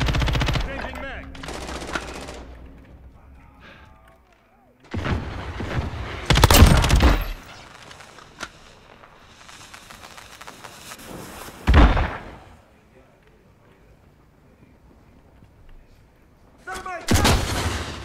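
Heavy bursts of automatic gunfire and loud shots in the game Call of Duty: Modern Warfare come in several dense volleys separated by quieter stretches, close and punchy, with a brief sharp bang in the middle.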